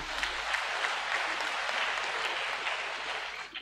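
A crowd at a military academy pipping and commissioning ceremony gives a steady, even round of applause, heard faint and somewhat distant throughout.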